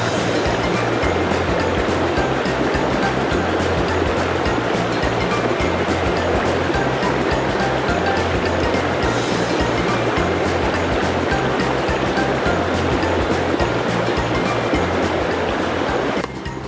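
River water rushing steadily during water sampling, a loud continuous broadband flow with no pauses, close to the microphone and without voices.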